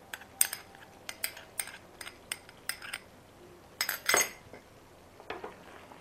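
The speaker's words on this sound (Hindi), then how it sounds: "अब मैं सारे चीज़ को एक साथ में अच्छे से मिला लूँगी।" Garam masala, sugar and ghee being stirred into soya parwal in a pan: a spoon clinks and scrapes against the metal in scattered sharp taps, with one longer scrape midway, near and moderately loud, no talk.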